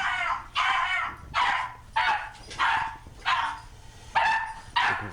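A dog barks repeatedly in a steady rhythm, about eight sharp, moderately loud barks evenly spaced while it watches a toilet flush indoors.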